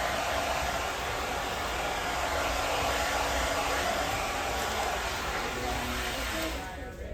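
A hair dryer blowing steadily while hair is dried with a round brush, a loud, continuous broadband rush that holds evenly for several seconds before easing off at the end.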